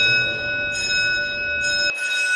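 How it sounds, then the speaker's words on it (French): Assembly bell ringing to signal the resumption of the afternoon parliamentary session at the Assemblée nationale, a steady sustained electric ring with bright metallic overtones, loud and continuous before cutting off near the end. "Ça, c'est la cloche pour annoncer la reprise des travaux parlementaires de l'après-midi."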